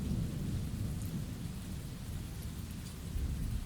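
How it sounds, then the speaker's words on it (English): Steady rain falls during an outdoor walk, with a constant hiss and a heavy low thunder rumble underneath. Close and continuous throughout, with no voices. "It's already raining."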